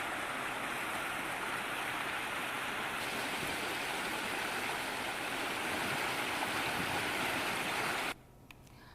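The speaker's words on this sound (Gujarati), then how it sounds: "ગામના રસ્તા પરથી નદીઓ વહેવા લાગી" Floodwater rushes along village roads in Ambalas, Gujarat, after a monsoon downpour. The roar of flowing water is steady and dense and nearly fills the whole stretch. It drops away abruptly near the end, and no voices are heard.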